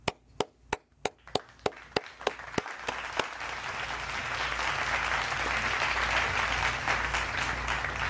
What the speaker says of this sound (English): Good golf clap.